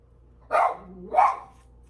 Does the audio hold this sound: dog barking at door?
yes